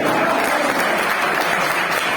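Loud, sustained applause from a large audience at a poetry recital, a dense and even roar of clapping that stays at full level from start to finish.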